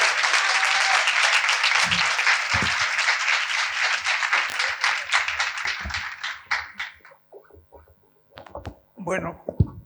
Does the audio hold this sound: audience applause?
yes